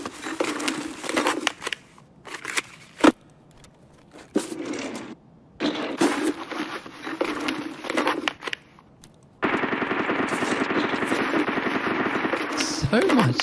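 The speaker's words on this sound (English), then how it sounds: "So much gunfire this raid." Gunfire rings out in the video game Escape from Tarkov, with bursts of automatic fire and single shots that come in irregular clusters between pauses, ending in a long sustained stretch of firing.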